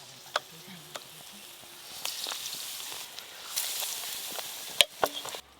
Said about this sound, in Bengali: আমার কিন্তু বেগুনি শুরু হয়ে গেছে ভাজা হয়ে গেছে